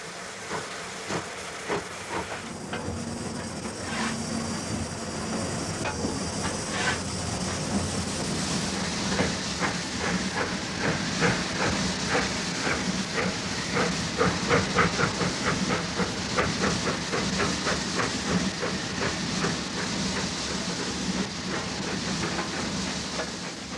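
Restored steam locomotive hissing steam continuously and loudly, with rhythmic chuffing and clanking building over the steady roar of escaping steam.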